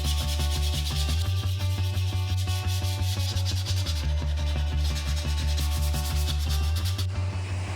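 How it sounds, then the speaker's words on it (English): Continuous sanding of a wood sculpture, a steady close rubbing drone with a regular pulsing rhythm running throughout, loud and alone with no talk. "let's get to some sanding and finish up this sculpture"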